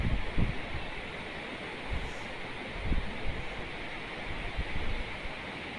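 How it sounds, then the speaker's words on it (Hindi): Fast-flowing water of a mountain stream in Himachal rushing steadily as a dense, continuous roar, moderately loud and alone, with some wind buffeting the microphone. "ये पानी का भाई साउंड देखो कितना आ रहा है, कितना तेज पानी जा रहा है।"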